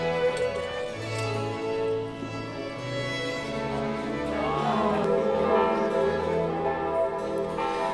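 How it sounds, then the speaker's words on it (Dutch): New church bells of the Sint-Martinuskerk in Oudstein ring together in a dense, sustained peal, loud and continuous with overlapping strikes throughout. "Voor de eerste keer klonken de nieuwe klokken van de Sint-Martinuskerk over Oudstein."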